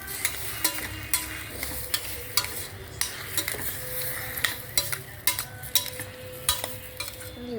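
Tomatoes fry in a pan with a steady sizzle while a utensil repeatedly scrapes and taps against the pan in an irregular stirring rhythm, close and clear, with no talking.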